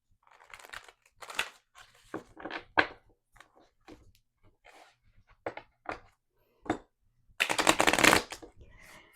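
Tarot cards shuffled by hand in repeated riffling bursts, with a long, dense flurry near the end, close and clear with no talking.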